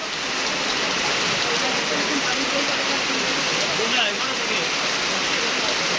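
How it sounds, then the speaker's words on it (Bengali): Heavy rain falls steadily at night in Faridpur district, Bangladesh, a dense, even hiss of drops on surfaces with no wind, continuous and close throughout. "তো দেখতেছেন কি পরিমাণ বৃষ্টি হচ্ছে ফরিদপুর জেলায়"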